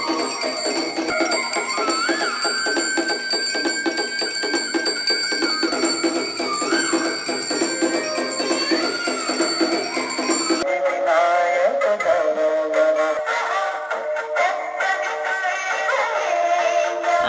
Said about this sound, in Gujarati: આરતી એવી થાય ને નગારા ને ઝાલર વાગે